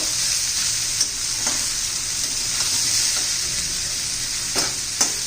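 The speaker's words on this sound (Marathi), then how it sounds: "हे पहा दोन तीन मिनटं चांगला परतून घेतलेला आहे भोपळा" Bottle gourd pieces are stir-fried in a pan for a few minutes, giving a steady sizzle with occasional sharp scrapes of a spatula against the pan, close and fairly loud, with no talking.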